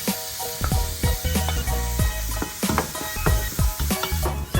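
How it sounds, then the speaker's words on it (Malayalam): Onions sautéing in a pan for a mutton biryani, with a steady loud sizzle and frying crackle broken by repeated stirring scrapes and clinks throughout, no talking. "സവാള ഇടുവാണ് വഴറ്റാൻ വേണ്ടിയിട്ട്."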